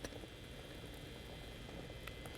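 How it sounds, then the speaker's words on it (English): Stracciatella soup broth at a rolling boil in a home kitchen, a faint steady bubbling and patter that keeps on for a couple of seconds, with no voices. "So what we have here, we have our boiling soup"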